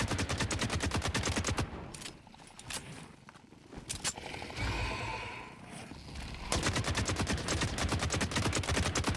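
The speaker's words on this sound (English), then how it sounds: "so just continue shooting at him" Gunfire in the video game The Cycle Frontier, rapid automatic bursts that start and stop, with a louder stretch of continuous shooting at the end, all close and loud and without talking.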